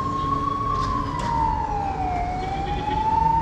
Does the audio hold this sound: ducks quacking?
no